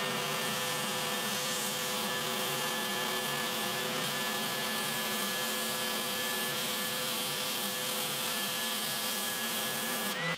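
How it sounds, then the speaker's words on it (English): Spindle sander fitted with a fence and used as a drum sander to thin guitar tonewood, giving a steady, loud buzzing hum with constant abrasive hiss throughout and no talking. "he puts a fence up on his belt or spindle sander and uses that as a drum sander"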